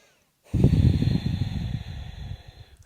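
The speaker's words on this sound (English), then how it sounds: "Take one more big breath here" One big, deep breath taken during a gentle yoga hamstring stretch, a loud close airy exhale that swells quickly, holds and then slowly fades.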